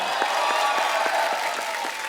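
Studio audience applause on the set of The Kapil Sharma Show, a steady wash of clapping throughout with a rhythmic beat cutting through, loud and close for the whole stretch.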